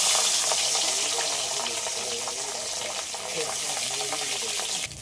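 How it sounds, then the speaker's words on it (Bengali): Fish pieces and potatoes fry in hot oil, giving a steady, close, broadband sizzle with a watery hiss that holds evenly throughout, with no voices over it. "বাকিগুলো একইভাবে সব ভেজে নেব, মাছ আর আলু।"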